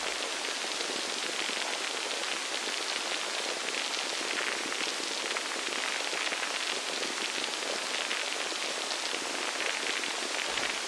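Designed light, relaxing rain sound effect: a dense, steady hiss of countless fine drops pattering evenly on a surface, continuous and constant in level from start to finish, with no voices.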